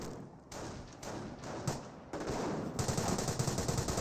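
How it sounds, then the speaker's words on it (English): Bren gun squad firing in Company of Heroes, a World War II strategy game, with sustained bursts of automatic gunfire that build and grow denser and louder toward the end. "Bren squad firing away."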